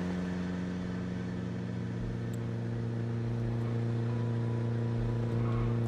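A car in Project Zomboid runs along at an even pace, its engine a steady, droning hum with a slight rise in load toward the end, loud and continuous with no speech over it.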